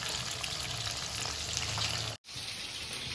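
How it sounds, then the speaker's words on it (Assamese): Chicken pieces for butter chicken frying in a pan, a steady close sizzle and crackle that runs unbroken apart from a brief cut near the end. "এইডোখৰ আমি এতিয়া চিমত ভালদৰে ভাজি লম"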